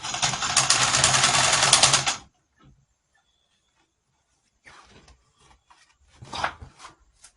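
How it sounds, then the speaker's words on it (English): A sewing machine stitches a box pleat blouse in one fast, continuous burst of about two seconds, then stops, leaving near silence broken by soft fabric rustling and handling noises. "So let's keep sewing."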